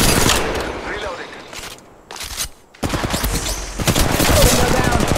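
Rapid bursts of automatic gunfire in the Apex Legends Mobile game, loud and close, with a short lull in the middle before dense firing resumes under in-game voice callouts.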